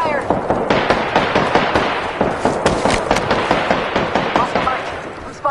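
Rapid bursts of video game gunfire crackle loud and close in a continuous stuttering stream, with a sharp report near the end.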